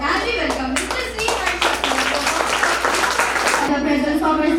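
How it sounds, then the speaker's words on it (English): A crowd at a school robotics expo claps in steady applause, dense and fairly loud, with voices murmuring underneath throughout. "please give a big round of applause"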